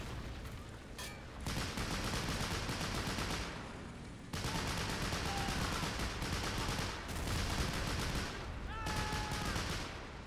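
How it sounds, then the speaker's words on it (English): Dense, continuous gunfire pours onto troops landing on a beach in a realism-modded war game, with rapid rattling volleys and machine-gun bursts that swell and briefly drop away between loud waves. "We're being shot at."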